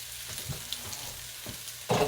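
Beef pieces and their juices hit a hot pan for Asian-style pepper steak, setting off a loud, steady frying sizzle with a sharp burst near the end as the meat goes back in, no voices.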